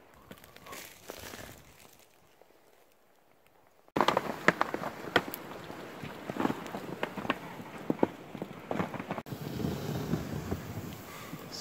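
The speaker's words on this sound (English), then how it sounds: "Some horse's hoof." Horse hooves clip-clop in a rhythmic, uneven series outdoors in the snowy Adirondack wilderness after a storm, with wind buffeting the microphone and quieter stretches at the start.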